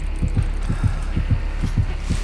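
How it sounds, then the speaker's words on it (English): A heartbeat warning of an approaching killer in the Dead by Daylight video game thumps in a steady, loud double-pulse rhythm, about five beats in quick succession, low and throbbing with no speech over it. "I can hear heartbeats behind me"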